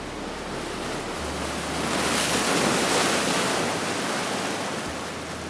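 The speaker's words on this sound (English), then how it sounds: "the wave gets steeper and steeper until it loses its balance and" Ocean surf crashes and rushes onto the shore in a continuous loud roar, swelling in the middle, with wind noise and no voices.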